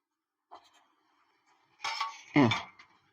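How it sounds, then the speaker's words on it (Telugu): A metal cooking pot is set down on a kitchen gas stove while gongura pickle is being made, giving a brief clunk and scrape with a faint clink just before it, close by. "ఇగో గిన్నె పెడుతున్నా."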